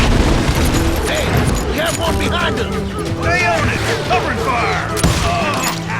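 Rapid bursts of gunfire from a Wild West shootout in Call of Juarez: Gunslinger, sustained volleys and booms under shouted voices and game music.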